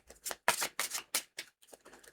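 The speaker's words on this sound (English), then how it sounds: "it takes a little bit time to shuffle all the cards" Tarot cards being shuffled by hand, a series of short papery riffles and slaps in an uneven rhythm, close and fairly quiet, with no talking.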